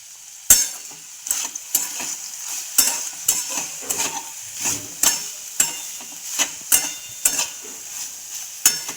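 Val bean pods fry in a pan while a spoon stirs them, with regular scraping clinks over a steady low sizzle.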